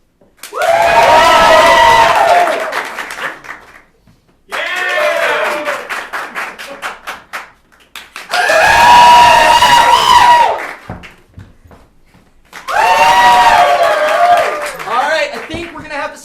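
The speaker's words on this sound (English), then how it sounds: "When I put my hand over the group, applaud for the ones you want to keep." Four separate bursts of crowd noise from an improv showcase audience, each a few seconds long, with clapping mixed into loud whooping and cheering voices. Short quiet gaps fall between the bursts.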